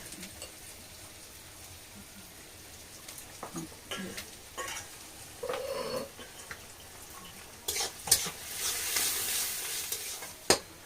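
Onions frying in a pan for a bhetki fish kalia make a quiet background sizzle broken by scattered scrapes and clinks of stirring, with a louder hissing surge and sharp knocks toward the end; no talking.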